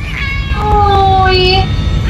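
Onscreen in the film Captain Marvel, a cat gives a couple of clear, tonal meows with sliding pitch over a low background rumble, close and fairly loud.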